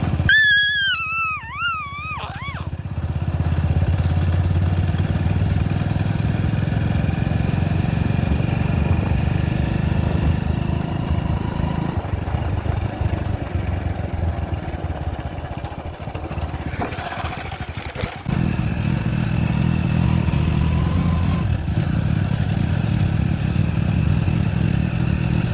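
A motorbike engine revs up after a brief whine, then drones steadily as the bike rides along, with a short dip and clatter midway before the engine noise picks up again.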